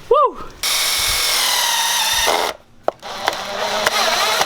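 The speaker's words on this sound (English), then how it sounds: "You want to drill the last one, Martin?" A power drill whirs steadily for a couple of seconds, stops, then starts again in shorter bursts, with a brief voice at the start, while working on a supercharged Infiniti G35.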